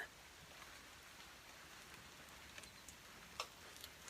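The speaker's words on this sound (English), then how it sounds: "Rain on a tin roof." Steady rain patters on a tin roof, with occasional sharper drips and ticks standing out from the soft wash of noise. No voices.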